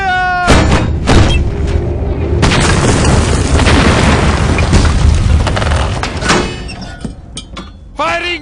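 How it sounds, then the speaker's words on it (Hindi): Three heavy cannons fire in a film battle scene, blasts booming one after another, loud and close, with rumbling aftershocks filling the gaps between shots. "तीनों तोप चलाओ। फायर! फायर!"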